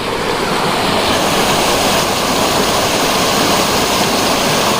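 A loud, steady rush of water flowing in an irrigation canal fills the whole clip, a constant broadband roar with no pauses.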